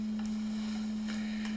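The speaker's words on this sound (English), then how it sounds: "It's a brainwave monitor, and it sounds like this." Brainwave monitor giving off a steady, faint electronic tone, a single unbroken hum running throughout with soft noise around it.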